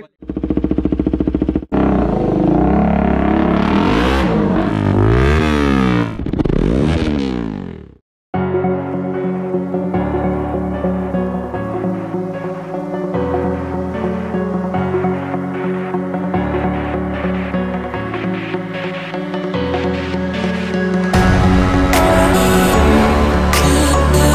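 A KTM Duke 250 BS6 fitted with an Akrapovic exhaust revs loudly several times, its engine note sweeping up and down in quick throttle blips before cutting off abruptly, after which music plays for the rest.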